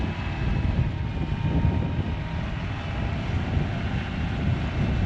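A tractor engine drones steadily while hauling a load of concrete, a continuous low rumble with wind buffeting the microphone and no breaks in the sound.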